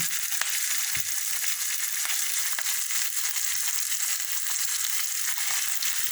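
Onions fry in a pan while cooking an eggplant, drumstick and mango tamarind stew, giving a continuous, fairly loud crackling sizzle with small pops throughout and no voices.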